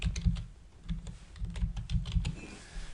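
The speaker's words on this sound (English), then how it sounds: "You'll need to type in your email if it's not there already" Fast bursts of typing on a computer keyboard, close and fairly quiet, with irregular clusters of key clicks and short pauses between them.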